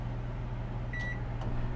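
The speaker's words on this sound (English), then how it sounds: "So the microwave's running." A microwave oven runs with a steady low hum and a fan-like whir. A brief high tone rings once midway through, and the hum stays close and constant throughout.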